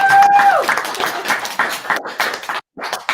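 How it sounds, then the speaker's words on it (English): A crowd gives a round of applause for Team Sharesies at the EIA Competition 2020, a dense burst of clapping that starts after a brief tone and holds steady, with a short gap near the end. "If I can get a round of applause for Team Sharesies"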